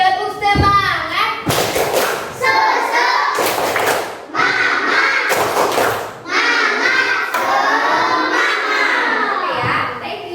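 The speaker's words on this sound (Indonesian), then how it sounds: "Oke, tepuk semangat." A primary school class of children performs a rhythmic spirit clap, loud synchronized claps and thumps in patterned bursts mixed with children's chanting voices close by.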